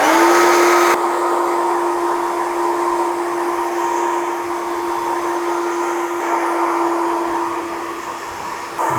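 A handheld hair dryer runs continuously at close range on a short haircut, blowing the back, sides and crown with a steady whirring hum and little change in pitch.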